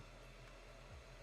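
A heat gun at maximum setting blows a continuous, even hiss of air onto heat shrink tubing, close and unbroken for the whole moment.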